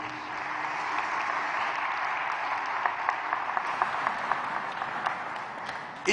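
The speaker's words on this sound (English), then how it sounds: "Let's give our program participants another round of applause." An audience at Richmond's 2023 State of the City address gives program participants a sustained round of applause, a dense, even wash of many hands clapping for about six seconds, with a few sharper claps standing out near the end.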